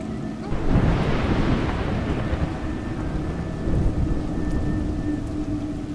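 Steady rain with deep rolling thunder in the video game A Juggler's Tale, a dense broadband wash that swells early and rumbles on throughout, with no voices.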